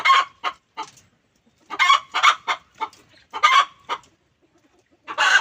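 Native chickens clucking in a backyard flock, with repeated bursts of close, sharp clucks and squawks separated by short pauses.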